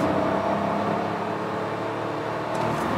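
Hyundai Kona SUV pulling from 75 to 100 in third gear, a steady engine drone and road hum inside the cabin, constant and fairly loud with no talk.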